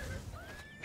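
A horse neighs in the video game Oblivion, a short, close whinny that rises in a thin wavering tone over low game ambience.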